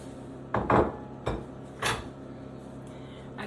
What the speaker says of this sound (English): Now you're going to go ahead and put your saute onions and peppers.